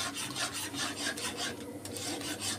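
A spoon scrapes and rubs steadily against a pan as a thickening jelly mixture is stirred over the stove, a continuous rasping swirl in repeated strokes with no voices.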